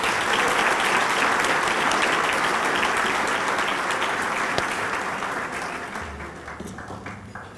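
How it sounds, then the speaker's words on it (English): An audience at a fire fighters' awards ceremony breaks into loud, dense clapping that holds steady, then gradually thins and fades over the last couple of seconds. "a special round of applause for Bill Nelson, please."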